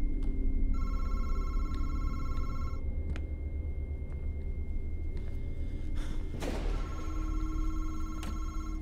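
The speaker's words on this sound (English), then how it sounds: "The phone is ringing." A telephone rings inside the horror video game MADiSON, repeated electronic trilling bursts over a low droning game ambience, fairly loud and close, with a crackling noise burst partway through.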